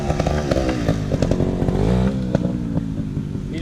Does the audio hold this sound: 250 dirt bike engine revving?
yes